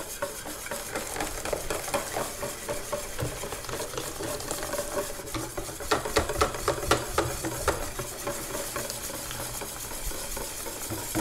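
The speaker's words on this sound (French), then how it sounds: "on allonge la pâte avec de la bière" A utensil stirs crêpe batter thinned with beer in a bowl, making steady close scraping and sloshing with quick rhythmic strokes that grow busier partway through, with no talking.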